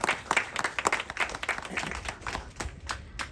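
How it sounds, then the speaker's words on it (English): Outdoor rally crowd claps for the NYPD, a fairly sparse, crisp applause with individual claps audible, moderately near and steady, tapering slightly toward the end. "let's give a big round of applause to the NYPD"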